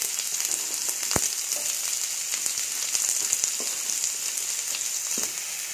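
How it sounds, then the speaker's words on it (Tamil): Onions sauté in a pan with steady sizzling and frying, a continuous crackle with occasional sharper pops and a faint stir, no voices. "வெங்காயத்தையும் ஆட் பண்ணி வதக்கணும்."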